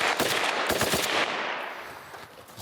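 A burst of automatic gunfire crackles in rapid succession, loud and close, with dense overlapping shots that trail off into echoing reverberation over a couple of seconds.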